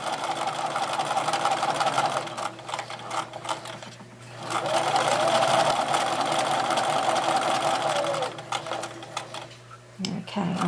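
A sewing machine stitches a seam in fleece for an infinity scarf, running in steady rapid bursts with a short pause midway, while a voice talks faintly underneath.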